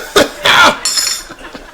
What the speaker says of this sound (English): And you've got the cough.